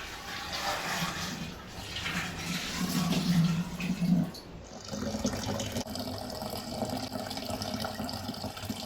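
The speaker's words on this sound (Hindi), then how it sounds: "उसके बाद में बस पानी छानूंगी" Water pours through a strainer in a home kitchen, a running, splashing stream that rises and falls, briefly pausing midway before resuming more quietly.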